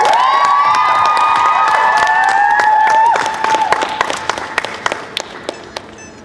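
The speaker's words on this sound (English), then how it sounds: "Let's clap for those two Arab activists." An audience at a Fossil of the Day climate-activism gathering claps, cheers and whoops loudly with high shouts over the clapping, then the cheering drops away and only a few scattered claps remain.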